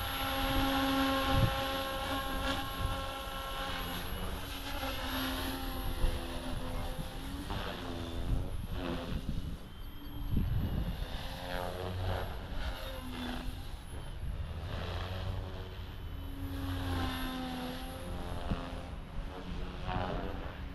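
An OMPHOBBY MultiStar RC helicopter with a Rotortech 360 tri-blade rotor set flying at low and mixed RPM, producing a continuous droning whine with shifting pitch and no talk.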